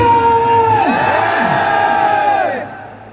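A large gathered crowd at a motivational speech event shouts "jai" together in one loud, sustained collective cry that swells and then fades after a few seconds.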